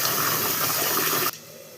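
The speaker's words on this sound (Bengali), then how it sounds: "চালটা ধুয়ে নিচ্ছি, সাথে সাথে ভাতটা।" Rice being rinsed in water for a home-cooked meal, heard as a steady close wash of running, splashing water that cuts off abruptly near the end and leaves a faint hiss.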